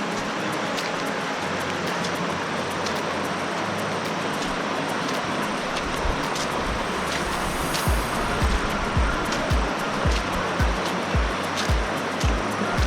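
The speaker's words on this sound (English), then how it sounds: "This is the river, Boyd River." Broad, steady rush of the Boyd River flowing near the Jenolan Caves, a continuous full-bodied roar of water with a few soft low thumps toward the end.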